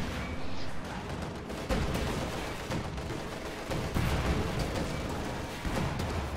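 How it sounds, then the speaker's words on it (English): A field gun fires in a strategy video game amid a dense, continuous wash of battle noise: repeated booming shots and crackling gunfire throughout, loud and busy, with no voices. "Field gun shot connects."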